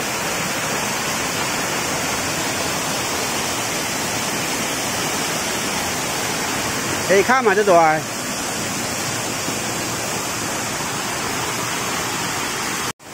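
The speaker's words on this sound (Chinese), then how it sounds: "今日水就大呀，我们是地水坎嘛，哗啦哗啦的阿里放哦" Alipang waterfall at Dishuikan on Yangmingshan roars in a dense, constant rush of falling water, loud and close, with a brief spoken remark partway through.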